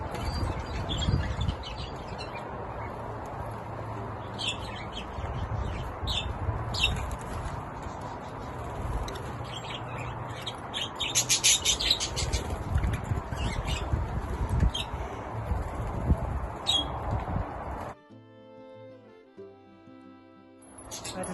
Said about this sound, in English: He's an amazing bird